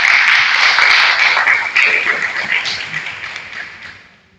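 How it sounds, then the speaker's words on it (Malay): An audience at an MSU Malaysia address claps for a speaker, a dense burst of applause that starts full and slowly fades out over a few seconds, with no talking. "kita bagi tepukan kepada Bapak."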